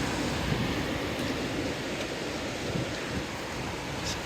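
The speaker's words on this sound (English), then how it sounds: "it's very windy out today." Strong wind roars into the microphone as a steady, broadband rush, buffeting unevenly with a few gusty swells.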